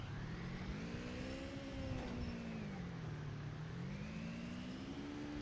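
A swamp buggy engine in Miscreated drones steadily as it drives, its pitch rising and falling gently with throttle, continuous and moderately loud with no talking.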